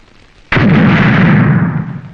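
A single loud firecracker bursting as a temple offering, a sharp close bang that rolls into a long, booming decay lasting over a second and a half, heard alone with no talk.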